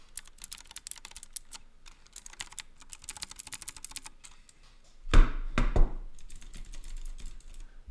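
Rapid clicking keystrokes on a compact mechanical keyboard, close and steady for several seconds, followed by a louder burst of heavier clacks and a clunk near the end; no talk.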